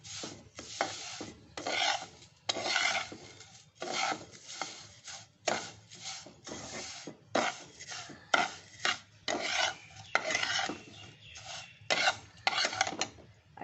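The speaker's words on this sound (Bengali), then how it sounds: "চিনিটা দিয়ে নাড়িয়ে নিই" A utensil stirs sugar into semai vermicelli in a pot for a zarda dessert, making repeated rasping scrapes in uneven bursts with short pauses, close and alone.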